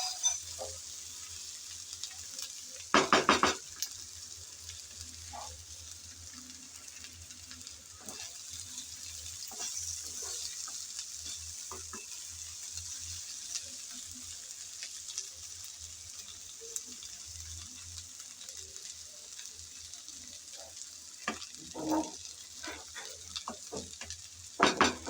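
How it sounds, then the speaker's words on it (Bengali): Neem leaves, eggplant and mixed vegetables frying in a pan, a steady soft sizzle running throughout with occasional louder scraping stirs of the spatula, close and continuous. "কিছুক্ষণ নেড়েচেড়ে ভালোভাবে মিশিয়ে নিয়েছি।"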